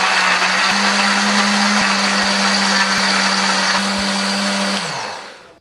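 A blender grinding chili paste with a little water whirs loudly and steadily for several seconds, its motor pitch holding constant before spinning down to silence at the end.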